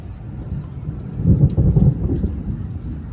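Low thunder rumbles and swells during a rainy thunderstorm out at sea aboard a sailing yacht, heavy and close, over steady rain noise with no talking.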